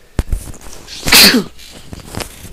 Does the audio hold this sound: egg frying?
no